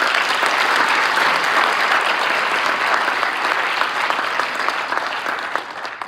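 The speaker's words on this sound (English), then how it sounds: "So please a round of applause for Nicole Brown." Sustained applause fills a school awards and scholarship night, steady and dense from a large audience, fading slightly toward the end.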